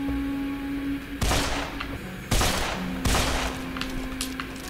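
Three loud bursts of gunfire from a gun in the video game Deadfall Adventures, each a sharp blast that tails off over roughly a second, with a low steady game hum running beneath.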